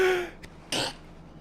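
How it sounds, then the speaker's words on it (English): A simulated sneeze effect from the FX Pro add-on in Microsoft Flight Simulator, flying a T-6, sounds as a short breathy burst following a brief earlier puff, clear over a quiet cockpit background. "Did you hear the sneeze effect from FX Pro?"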